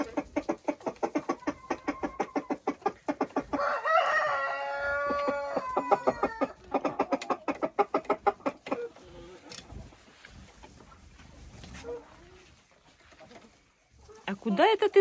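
Hens cluck in rapid, repeated bursts in a farmyard, with a rooster crowing loudly and close partway through; someone speaks at the end.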